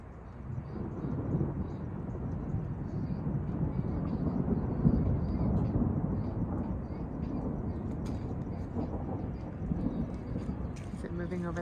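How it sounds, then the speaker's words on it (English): Thunder rumbling during a lightning storm, a continuous deep roll that swells and lingers across the whole stretch, fairly loud and broad with a few brighter crackles near the end. "You're gonna hear some more thunder."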